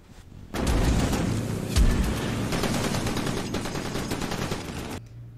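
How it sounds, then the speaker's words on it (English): Battle gunfire from the war TV series The Pacific, a dense sustained burst of rapid machine-gun fire and rifle shots with a heavier boom early on, all at moderate volume. "They're like shooting both ways and they have people in between."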